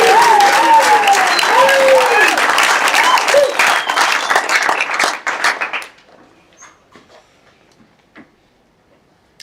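An audience at an auction event gives loud, dense applause mixed with cheering voices for about five seconds. The applause then thins into a few scattered claps and dies away into near silence.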